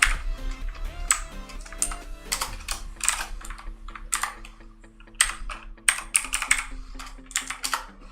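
Someone typing HTML code on a computer keyboard, producing rapid clusters of crisp key clicks and taps separated by brief pauses over a faint steady hum, with no speech.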